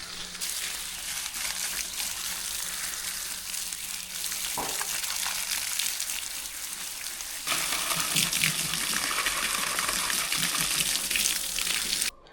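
Water pours onto soil and grass in a continuous gushing splash that grows louder partway through and then stops abruptly.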